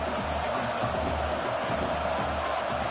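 Steady, dense roar of a stadium crowd at a college football game, loud and continuous throughout with no clear breaks, swelling noise filling the background.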